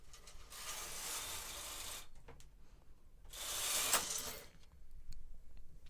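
A Brother KH860 knitting machine carriage is pushed back across the needle bed, making two rattling, ratcheting mechanical sweeps with a short pause between them and no talking.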